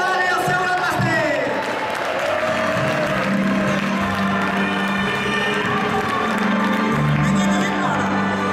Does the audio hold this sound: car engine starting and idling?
no